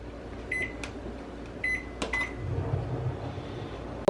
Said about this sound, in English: I'm just gonna go ahead and microwave that for